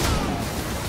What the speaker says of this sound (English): Oh, that explosion was.